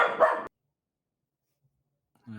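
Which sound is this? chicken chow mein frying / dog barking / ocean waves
dog barking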